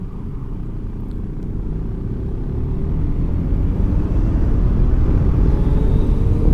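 A Kymco Xciting VS 400 scooter accelerates hard, its engine rumble building steadily louder and fuller over several seconds, close and dominant with no talk.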